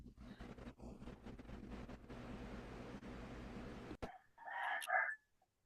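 A chicken gives a short, loud clucking call near the end, after a stretch of steady noisy background.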